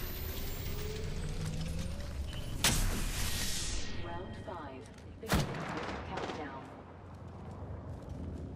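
Gunfire in a video game: two sharp, loud shots crack several seconds apart over a steady bed of game noise and mechanical whirring.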